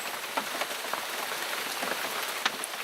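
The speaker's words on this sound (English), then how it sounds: "It's raining, and the wind is blowing" Steady rain patters on a hunting box blind, a dense even hiss with scattered sharper drop ticks, close and continuous with no voices.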